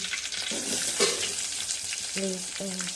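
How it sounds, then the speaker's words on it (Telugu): Mustard seeds, cumin and curry leaves crackle and sizzle in hot oil in a pan while tomato rasam is being made, a steady close frying hiss with a few brief clinks of a spoon. "నూనె కాస్త వేడయ్యాక ఆవాలు, కొంచెం జీలకర్ర, కరివేపాకు"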